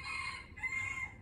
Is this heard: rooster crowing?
yes